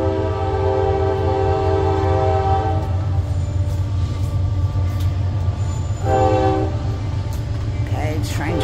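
A train rumbles past close by, its horn sounding in long steady blasts over the heavy rolling noise of the cars.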